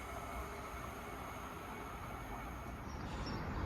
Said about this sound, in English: passing through is a transparent express running from Edinburgh to Manchester Airport